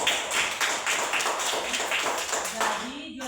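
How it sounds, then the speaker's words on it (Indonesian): Applause from a classroom of students, a steady patter of many hands clapping for several seconds before fading out as a voice begins. "tepuk tangan dulu"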